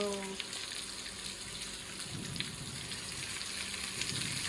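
Eggs frying in a pan with bacon and spinach as they are flipped, a steady crackling sizzle with a faint voice briefly at the start.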